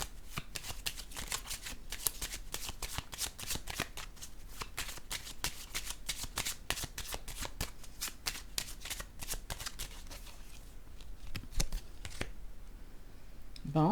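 Playing cards being shuffled and laid out, a long run of quick crisp riffling snaps and flicks at close range, steady and fairly quiet.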